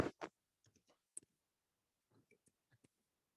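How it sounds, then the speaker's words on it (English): Typing on a computer keyboard in a quiet room: sparse, close, crisp key clicks arrive in small irregular clusters with short silences between them. "Again, I'm just blindly typing."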